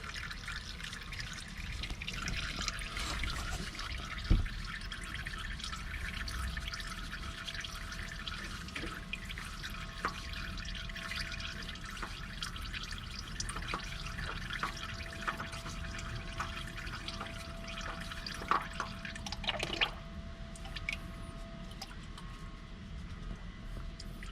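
Oil drips steadily while the oil filter comes off a 2015–2020 Nissan Murano during an oil change, a soft continuous trickle with scattered small drips and clicks over a long stretch.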